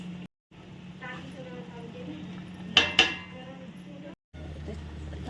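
Dry spices tipped into a pan of coconut masala already fried in oil, with a couple of sharp clinks from a utensil against the pan and a low steady hum beneath, then scraping as the mix is turned.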